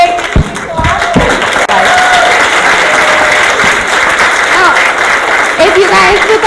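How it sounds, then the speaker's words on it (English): A large audience applauds steadily throughout, a dense wash of clapping with some cheering mixed in. "Can we get another big round of applause for Megan?"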